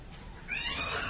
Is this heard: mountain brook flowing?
no